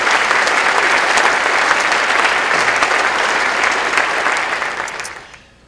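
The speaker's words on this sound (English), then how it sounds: "Would you give them all a big round of applause" A large audience breaks into loud, sustained applause, a dense wash of clapping that holds steady for several seconds before fading away at the end.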